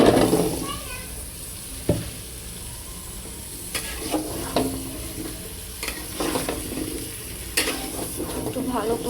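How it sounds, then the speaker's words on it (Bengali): Pumpkin pieces frying with small shrimp while being stirred: a steady sizzle runs underneath repeated scraping and clanking strokes of a spatula against the pan, fairly close and moderately loud. "এখন আমি মিষ্টি কুমড়াগুলি দিয়ে দিব।"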